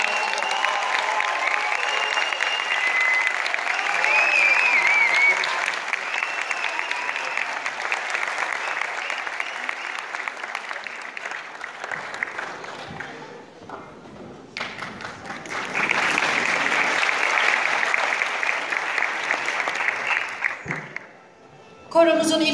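Sustained audience applause fills an indoor concert hall as a teachers' choir conductor, also a music teacher, is welcomed to the stage at a concert in Antalya; dense clapping runs for about twenty seconds, briefly dips midway, then swells again before stopping abruptly.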